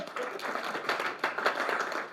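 A small group of cyclists claps together during a coffee stop on a Saturday morning ride, a steady patter of hands lasting a couple of seconds at moderate volume.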